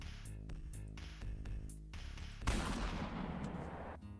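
A gunshot in a video game: one sudden loud blast near the middle that trails into a rough, noisy decay, following a run of rhythmic tonal beats.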